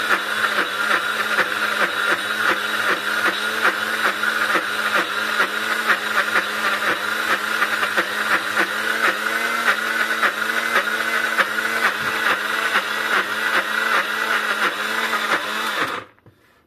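A blender grinds peanuts into peanut butter, its motor whirring loud and unbroken for about sixteen seconds before it cuts off abruptly at the end.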